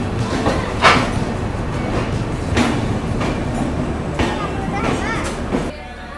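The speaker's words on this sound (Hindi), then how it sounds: "यहाँ हमारी ट्रेन पहुँची है 10:39 पे almost one hour fifty minutes का डिले" The Vivek Express train pulls into Guwahati railway station, wheels clacking in a slow, regular rhythm with heavy rumbling, while voices murmur in the background before the noise drops away near the end.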